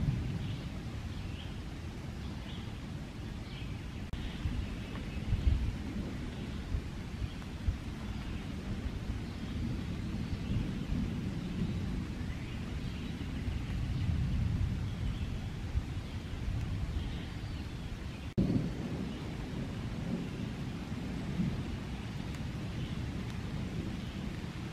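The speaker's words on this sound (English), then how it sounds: "I still hear the distant thunder." Distant thunder rumbling low and soft under steady rain falling on leaves in a wooded park in late May, with faint occasional birds and no talk.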